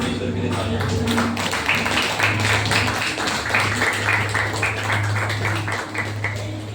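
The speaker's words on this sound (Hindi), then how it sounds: "परमेश्वर के लिए तालियां।" A church congregation applauding during a Sunday sermon: dense, steady clapping from many hands that carries on for several seconds over a low, constant hum.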